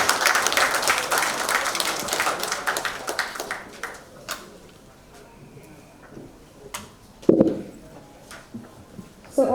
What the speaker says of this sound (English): can you have a round of applause for all of them